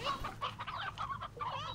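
Hens in the video game Slime Rancher cluck in a quick, busy string of close, clear calls, with no talking over them.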